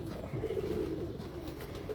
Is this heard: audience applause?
no